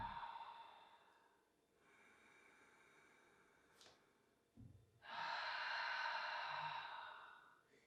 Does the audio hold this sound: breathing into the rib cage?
yes